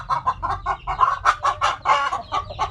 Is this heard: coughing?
no